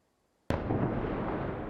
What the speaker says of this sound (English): Blinding flashes and earth-trembling booms across Kyiv overnight as Russian missiles and drones rained down for hours.